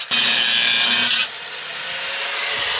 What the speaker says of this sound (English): I'm just gonna go in with the grinder again and grind these down